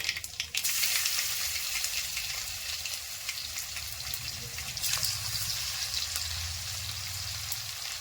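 Garlic and mustard seeds fry and splutter in hot oil with fennel seeds, a steady close sizzle with crackling pops throughout, no talk over it.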